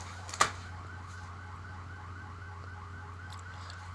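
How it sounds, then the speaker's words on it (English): A house alarm goes off outside, heard faint and distant as a repeating whooping tone over a low steady hum, with one sharp nearby click near the start. "someone's house alarm is going off"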